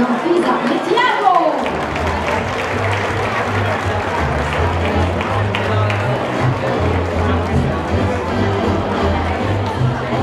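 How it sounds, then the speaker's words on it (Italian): Audience at an awards event applauding two performers, a dense, sustained wash of many hands clapping at once, loud and close, continuing steadily with background crowd noise underneath. "Facciamo un grandissimo applauso a Filippo e Tiago."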